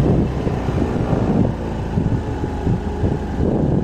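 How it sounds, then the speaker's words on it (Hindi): A Honda Activa 125 BS6 scooter engine runs on its double stand, giving a steady, fairly loud low rumble throughout with no clear rise of a rev. "जैसे अभी मैंने भाई चालू करी ये स्कूटी, अब मैं अगर एक्सेलरेट करूँगा"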